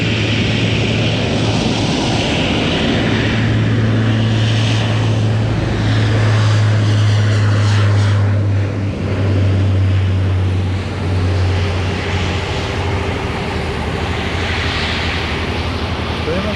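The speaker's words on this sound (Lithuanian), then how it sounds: "Čia net lėktuvai skraido, vat vienas." A propeller airplane takes off from a sand beach in Denmark, its engine droning loudly and steadily throughout with a sustained low hum, while people talk in the background.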